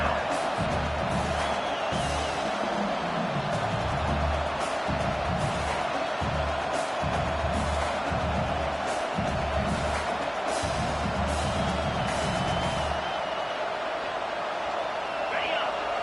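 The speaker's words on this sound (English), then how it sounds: "Here comes this home crowd as the defense tries to get off the field on 3rd down." A home crowd at a football game on third down makes a steady roar of cheering and whooping that fills the background while a voice talks over it throughout.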